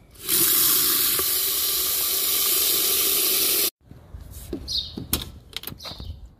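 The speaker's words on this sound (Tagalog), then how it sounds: "Lagyan ko lang ng tubig." Water gushes steadily from a tap for several seconds for car seat cleaning, then stops abruptly, followed by faint scattered handling noises.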